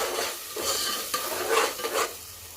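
Ground masala paste and browned onions stirred in a frying pan for Maharashtra-style mutton rassa, a steady sizzle under continuous scraping and mixing strokes, with a few sharper clinks of the spoon against the pan.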